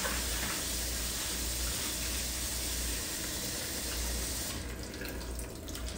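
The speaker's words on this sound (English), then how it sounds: "So I'll just rinse that really good." Salad leaves rinsed under a running kitchen tap make a steady, close rush of water that shifts slightly in tone near the end.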